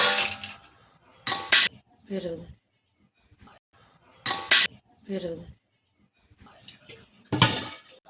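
A metal lid sets down on a cooking pot of lau shukto, a Bengali bottle gourd curry with bori lentil dumplings, in a home kitchen. Several short clinks and clatters ring out between bursts of a woman's speech.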